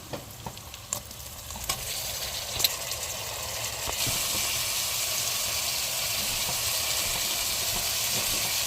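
Small fish are dropped into a pan of spiced masala and start sizzling, first with a few clinks and stirring taps, then a steady, bright frying hiss that holds close and constant.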